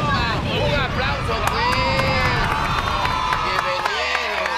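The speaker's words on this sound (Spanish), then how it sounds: "Un aplauso" Studio audience on a Mexican variety TV show, with a loud, continuous mix of cheering, shouting and clapping, whistles and voices layered throughout, and speech mixed in.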